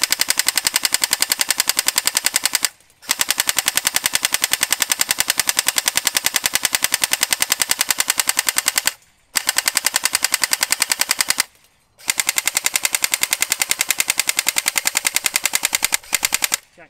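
An LCT airsoft AK fires full auto in long, rapid mechanical bursts, loud and close, separated by three brief pauses and ending in a short final burst, with no voices.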